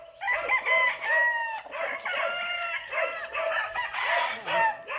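Hens clucking and squawking on a farm in Unisan, Quezon while being caught, a busy flock with overlapping agitated calls that rise and fall throughout, close and fairly loud.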